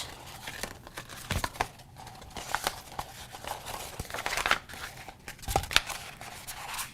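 Vinyl transfer tape is folded back about an inch from the top, giving close, quiet crinkling and sticky peeling crackles with scattered small taps and rustles.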